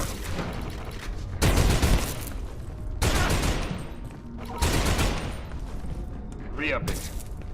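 Gunfire from a weapon in the survival game Abiotic Factor, several loud bursts of shots around two and three seconds in and near five seconds, with quieter gaps between and a voice speaking over parts of it.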